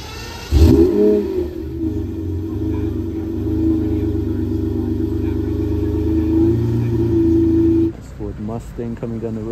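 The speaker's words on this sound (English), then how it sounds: "Mustang coming down the road here." A Ford Mustang passing along a road during Monterey Car Week, a loud steady engine rumble that holds for several seconds before cutting off, with someone talking over the end.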